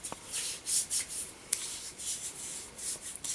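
Hands rubbing vanilla-scented lotion together up close, a soft, continuous swishing friction in uneven strokes, with no talk.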